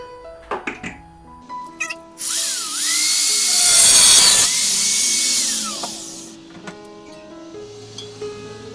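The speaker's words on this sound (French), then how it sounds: "maintenant je vais le découper à la disqueuse grossièrement" A loud, high-pitched grinding screech runs for several seconds as an angle grinder cuts a metal knife blank, bracketed by scattered clinks and handling noises.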